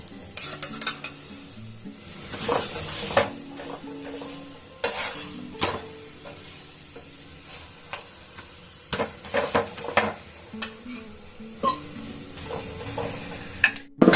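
Roti fries in ghee on a pan, giving a close, crackling sizzle punctuated by repeated spatula scrapes and metallic clinks in an irregular rhythm, with no talking.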